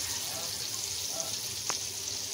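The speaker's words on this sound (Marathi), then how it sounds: "लेपटी मच्छी आता सर्व फ्राय करण्यासाठी ठेवलेली आहे" Lepti fish frying in a pan, a steady soft sizzle that holds at an even level from start to finish, with one brief sharper crackle standing out partway through.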